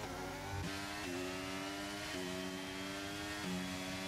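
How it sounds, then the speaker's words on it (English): F1 race cars lapping Bahrain in a racing video game give a continuous high engine whine that shifts pitch with each gear change, loud and steady across the whole stretch with no voice over it. "Aaron not using the ERS, is using the DRS power to get ahead."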